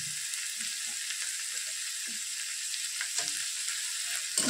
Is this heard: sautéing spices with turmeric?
yes